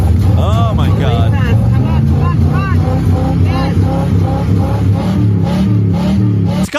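A car engine revs and accelerates, loud and close, under continuous talking, with rising and falling pitch sweeps as the throttle is worked.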